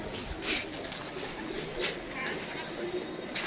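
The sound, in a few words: pigeons cooing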